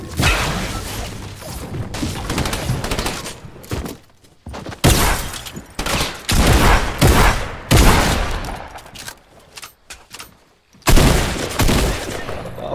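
Rapid Fortnite gunfire in repeated bursts of sharp, loud shots, broken by short pauses. Mechanical clatter and crashing impacts mix in between the volleys.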